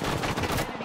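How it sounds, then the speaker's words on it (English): Brief rapid gunfire from enemies in a video game, a dense burst of close, loud shots packed into under a second. "The enemies are shooting at me."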